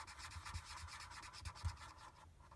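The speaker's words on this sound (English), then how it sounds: "And when you smooth it with your blender pen, it takes out those harsh lines" A blender pen rubs across paper to smooth and blend colour on an Easter triangle treat box craft, giving soft, repeated close scratchy strokes in a steady rhythm with no talking.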